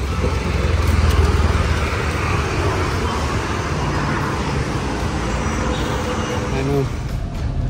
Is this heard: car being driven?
yes